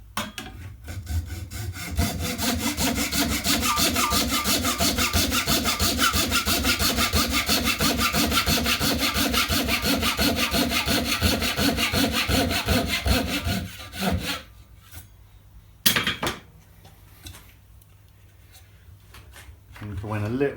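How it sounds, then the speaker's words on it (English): A hand saw cuts a wooden dovetail joint along a magnetic guide in fast, even back-and-forth strokes for about fourteen seconds, then stops, leaving a few quieter knocks and handling sounds. "Come in on the other side of the dovetail, so we're just cutting on the other side of the guide."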